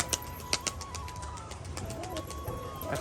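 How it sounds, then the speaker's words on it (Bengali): A male pigeon coos softly in a home loft, low repeated coos under faint background noise with a few sharp clicks and knocks. "তো দেখুন এই যে হচ্ছে নর পায়রাটা"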